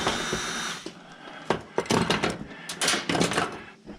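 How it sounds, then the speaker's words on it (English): Screws are being unscrewed during the teardown of a kitchen range, with irregular metallic clicks, scrapes and clunks of tool and panel, close and fairly loud. "We'll see what happens here when I unscrew these screws."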